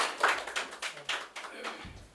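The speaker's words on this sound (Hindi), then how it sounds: "एक बार जोरदार तालियां" Scattered hand claps ripple through a small crowd, uneven and fairly soft, fading toward the end.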